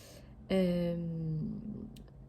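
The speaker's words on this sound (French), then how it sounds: "j'ai mon chat qui m'appelle" House cat meowing to call its owner indoors, one clear drawn-out meow of about a second, close and fairly loud, ending in a softer trailing sound.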